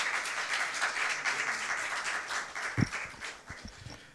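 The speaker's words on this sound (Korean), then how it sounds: "박수 부탁드립니다." Applause from a seated audience at a public forum on walking and health, a moderate burst of clapping that thins out toward the end into a few scattered claps and soft thumps.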